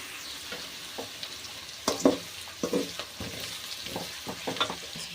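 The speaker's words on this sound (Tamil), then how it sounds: "ஒரு 4 வெங்காயம் நல்லா நீட்டாக பொடியாக அரிஞ்சு வச்சுருக்குறோம். அது போட்டுக்கலாம். நல்லா வதங்கணும்." Four finely chopped onions sauté in a pan for fish curry. Bursts of spatula stirring rise over a constant close sizzle, with no talking.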